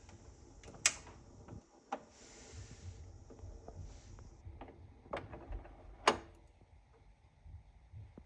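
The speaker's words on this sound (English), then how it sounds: "Raise the arm, pick another song, drop the needle" An Audio-Technica LP60 turntable's tonearm lifts and the needle drops onto a vinyl record, heard as a few sharp clicks and soft thumps over faint background hiss.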